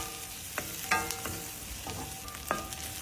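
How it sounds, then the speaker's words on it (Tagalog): Onions are sautéed in oil in a pan, making a soft, continuous sizzle while a spatula clicks and scrapes against the metal several times at close range. "Saute onions until softened"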